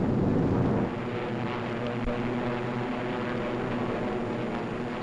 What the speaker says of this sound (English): A group of escorting Mustangs watches every corner of the sky.